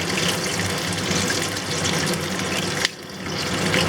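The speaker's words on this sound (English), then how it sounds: "I have some boiling water here." Boiling water pours steadily from a container over pork belly, a loud, close rushing splash that continues almost without a break, with a brief dip near the end.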